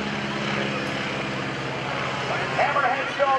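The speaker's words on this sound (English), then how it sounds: "Stearman biplane. Snap rolls the airplane right after takeoff." A Stearman biplane flown in airshow aerobatics gives a steady, loud radial-engine and propeller drone that swells slightly near the end, with a commentator talking over it.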